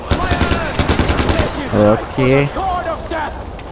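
Rapid automatic gunfire from the video game Far Cry 4, a fast string of loud shots over the first second and a half, then someone speaks over the game sounds.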